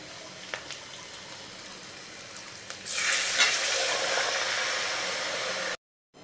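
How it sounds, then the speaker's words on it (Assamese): Fish and potato curry in a pan with curry leaves, starting to bubble and boil with a steady, close hissing simmer that swells midway and runs on alone. "আৰু চাওক ধুনীয়াকৈ উতলিব ধৰিছে।"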